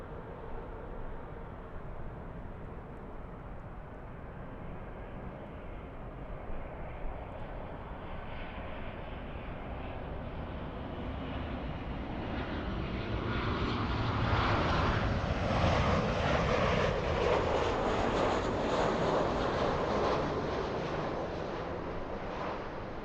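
A Boeing 747 takes off at LAX: a broad, distant jet roar that builds steadily and peaks loudly toward the end, with no voices.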